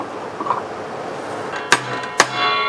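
Two sharp metallic hammer strikes on a punch, seating a bearing in a 12-inch DeWalt miter saw, ring out about half a second apart, each leaving a brief bright ringing tone over quiet background.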